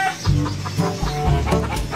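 Fighting roosters clucking close up, a run of throaty, repeated clucks and low calls that overlap continuously through the short stretch, fairly loud and near, with no talk over them.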